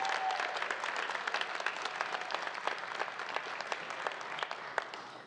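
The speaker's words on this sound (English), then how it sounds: "I think he deserves a bigger round of applause for all that he's doing" An audience at a Founders Day ceremony claps in sustained, dense applause that stays steady and fairly loud throughout, with many hands blending into a continuous patter.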